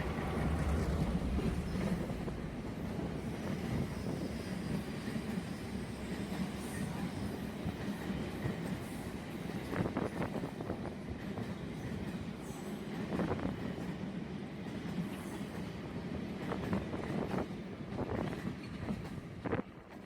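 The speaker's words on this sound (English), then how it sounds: "Here you can see Badulla oil train running with Class M2 diesel locomotive towards to Kelaniya Railway Station in Sri Lanka." Badulla oil train of ten oil tank wagons hauled by a Class M2 diesel locomotive in Sri Lanka, a steady loud rumble of rolling wagons with repeated wheel clatter and rail clicks throughout, no voices.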